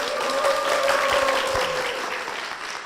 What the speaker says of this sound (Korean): 박수를 모시겠습니다.